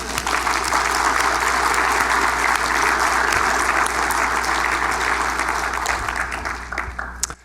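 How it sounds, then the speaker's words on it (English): A conference audience at a medical research awards session gives a loud, dense round of applause that holds steady and then tapers off near the end. "I'd really like to give a round of applause and hope that if we clap loud enough, Robert Kyle can hear us up in Minnesota"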